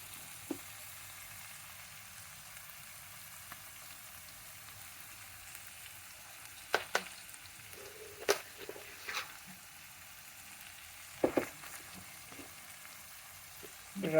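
Carrot, green peas and tomato fry in a pan for wheat rava upma, giving a low, steady sizzle. Now and then louder utensil clinks and stirring scrapes break through.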